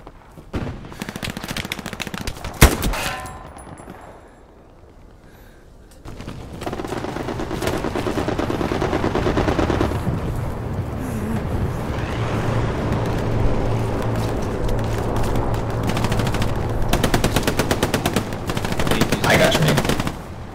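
Loud gunfire in a video game set in the push for Sainte-Marie-du-Mont, with rapid machine-gun bursts, sharp single shots and a booming blast, falling briefly quiet before a sustained stretch of heavy firing and rumbling vehicle noise.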